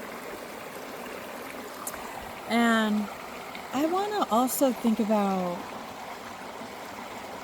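A stream flows outdoors with a steady, broadband rushing wash running throughout, while a person speaks over it in the middle.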